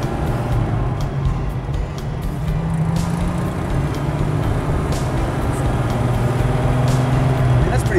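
A 1932 Maybach with a vacuum-operated gear shift drives steadily in fourth gear, its low engine drone and road rumble continuous and fairly loud throughout, with a faint hint of voices underneath.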